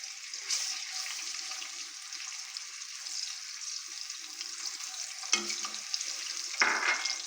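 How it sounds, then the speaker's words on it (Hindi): Five or six cloves of crushed garlic fry gently in oil with a soft, steady sizzle, close by, followed near the end by a couple of louder scrapes and splashes as the pan is stirred. "हल्का सा फ्राई हो गया लहसुन"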